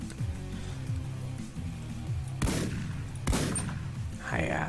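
Shotgun blasts in the indie shooter Paranautical Activity, two loud broadband bursts about a second apart standing out over a busy game soundtrack and background effects.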